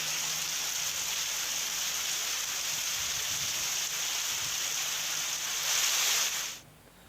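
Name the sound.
light rain falling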